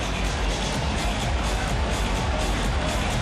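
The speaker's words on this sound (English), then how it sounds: "And he gets his ovation right here." A packed arena crowd roars in a sustained ovation during a tribute to Kobe Bryant, a dense wall of cheering and babble that holds steady and loud throughout with no pauses.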